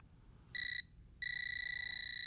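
A Tic Tracer voltage tester held near a live extension cord emits a high electronic tone. A short beep is followed by a brief gap, then the tone holds steady and loud.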